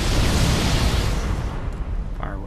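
Loud explosions and bursting blasts from a Halo game, like fireworks, fill the start with dense rumbling booms, then thin out into smaller pops and crackles.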